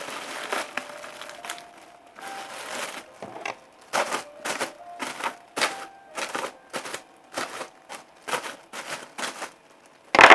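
Roccat Kanga mouse pad packaging being opened, a series of sharp tearing and crinkling bursts in an uneven rhythm, close and fairly loud, with no talk.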